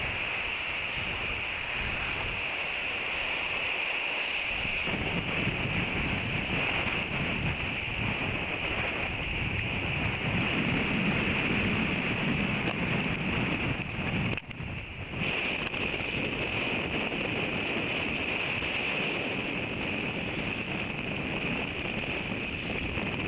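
Strong gusting wind at sea buffets a microphone while kayaking toward an island, a loud continuous rushing roar with a steady high whine and brief dips in force.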